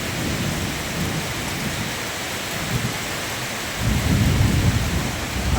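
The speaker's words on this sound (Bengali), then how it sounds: "মারাত্মক বজ্র পড়ছে, মারাত্মক বজ্র। 1 ঘন্টা ধরে বৃষ্টি হচ্ছে" Heavy rain pours steadily onto surfaces during a thunderstorm in a village courtyard, with rolling thunder rumbling underneath and a louder burst of thunder near the end, without voices.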